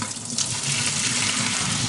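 Hot water pours off a pot of braised pork belly into a sink, a steady, close splashing rush that holds without a break for about two seconds.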